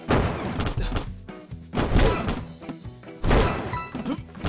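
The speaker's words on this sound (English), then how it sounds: "So what we also have is lamps. So they will shoot out bullets," Lamp towers fire bullets in the tower defense game Toaster Defense, producing dense bursts of rapid thudding shots in three loud waves over a busy game soundtrack.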